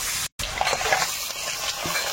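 River crab pieces dropped into hot oil for a Sundarban-style crab and water spinach fry give a steady, close sizzle and crackle, with a brief cut early on and stirring bubbles throughout.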